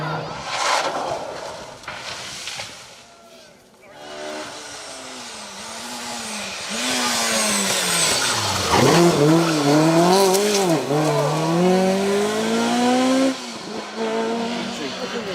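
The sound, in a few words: rally car braking hard, locking up and spinning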